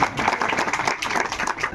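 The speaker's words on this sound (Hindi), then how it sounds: "जोरदार तालियों के साथ सांसद महोदय स्वागत करेंगे" Villagers at a gathering in a rural Indian gram panchayat give a short, dense burst of clapping to welcome their MP, steady and fairly close with no pauses.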